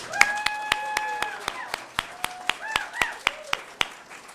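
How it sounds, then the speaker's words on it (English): Applause at a NASDAQ closing bell ceremony, with steady, evenly spaced loud claps close by, sparse crowd clapping and faint voices and tones underneath. "I think that deserves a round of applause."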